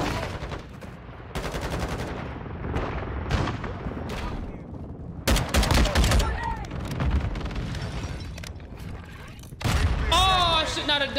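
Gunfire and a heavy blast in Call of Duty MW2 as the player blows himself up, with loud bursts of shots and booms through the clip and a voice speaking over the later part.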